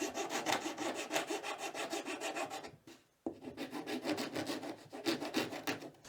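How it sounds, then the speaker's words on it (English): A hand file rasps across wood, scraping away excess dried epoxy in steady back-and-forth strokes, close and loud, with a brief pause midway before filing resumes. "now I'm using a file to get rid of the excess"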